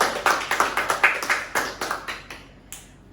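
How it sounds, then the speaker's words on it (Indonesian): A small group gives a round of rhythmic clapping for Kak Grace after she shares her story, claps landing in near-unison at a steady beat before thinning out and stopping. "Mari kita tepuk tangan untuk Kak Grace"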